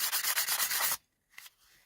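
An opal rock rubbed by hand against an abrasive surface, a close, quick run of rhythmic scraping strokes for about a second, then a pause and one brief softer scrape.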